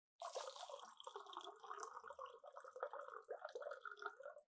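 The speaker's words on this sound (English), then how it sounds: "This is the flow of water." Water flows and trickles with small bubbling drips, close and faint, heard alone without talk.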